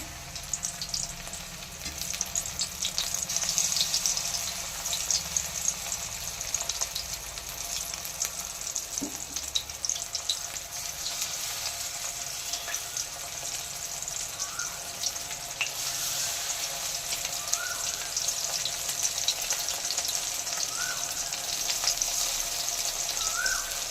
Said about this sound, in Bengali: সেম ভাবে বাকি মাছগুলো মা ওইভাবেই ভেজে নিচ্ছে।